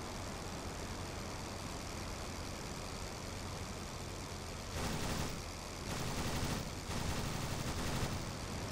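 Machine gun fire from a Sopwith Camel in Rise of Flight, faint bursts of rattling shots over a steady engine drone, with several short volleys near the end.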